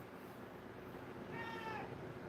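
A single faint cat meow rises briefly over a noisy, hissy background, distant and short.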